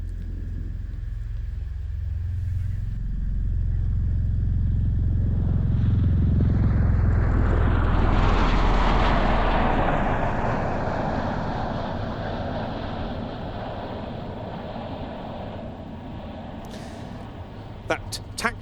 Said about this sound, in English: So a rolling takeoff now from the Osprey.